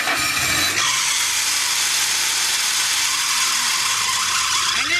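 A Kazuma Mammoth 800 ATV engine runs after a temporary fuel pump hack, a loud, continuous, hissing mechanical roar that holds steady throughout with no talk.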